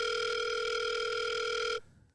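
A telephone rings with a steady electronic tone, loud and close, sounding continuously before cutting off abruptly near the end.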